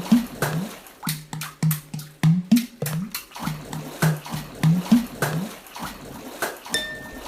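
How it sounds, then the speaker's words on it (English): Someone in a bathtub slaps the water surface with their hands, producing a rhythmic run of close, wet smacks and splashy thumps with brief gurgles between the beats. "Water drumming."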